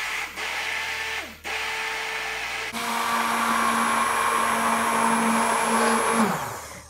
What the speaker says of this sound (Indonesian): Nah, kita blender sampai halus ya.